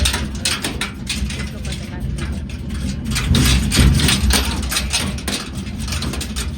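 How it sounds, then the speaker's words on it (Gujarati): A farm tractor engine runs with a low, rumbling chug and a rough, pulsing texture. Someone talks over the steady engine noise throughout. "ટ્રેક્ટરનો અવાજ એટલો આવે છે"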